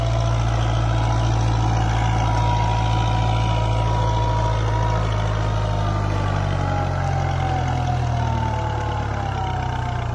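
Kubota MU4501 tractor engine pulling a back harrow through soil, a steady loud diesel drone with strong low rumble running continuously and close, its pitch slowly sagging toward the end as if the engine labours and stalls.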